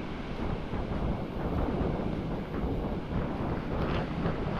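Big sea waves pounding under strong wind, a steady loud broadband roar with gusty wind buffeting the microphone throughout, no speech.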